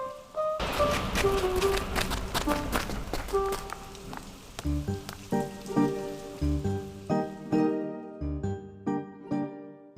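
Rain patters steadily on a surface, with scattered tonal plinks and thuds mixed in, growing sparser toward the end.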